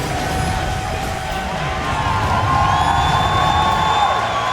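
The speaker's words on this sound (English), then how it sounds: "The fans cheering behind them." A large crowd of esports fans cheers and whoops loudly at a live League of Legends playoff match after a game win, sustained and swelling slightly, with no talk.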